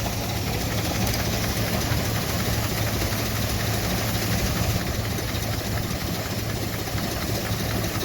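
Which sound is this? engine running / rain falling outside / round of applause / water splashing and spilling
engine running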